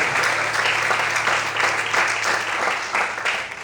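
A church congregation claps for Jesus in a dense, steady wash of applause that carries on without a break, full and close.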